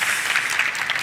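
Audience applause welcomes speakers at an agtech conference hall, a dense, even clatter of many hands clapping steadily for just over a second, fairly loud and without voices.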